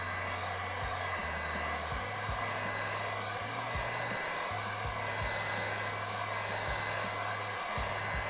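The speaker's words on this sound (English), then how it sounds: "let me hit it with a torch" Steady close roar of a torch heating a fresh acrylic paint pour, a continuous broadband hiss with faint low clicks beneath it.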